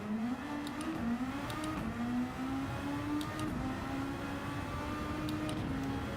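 A race car in the Gran Turismo 7 racing game holds a steady engine drone with slowly rising pitch, continuous and moderately quiet with no voices.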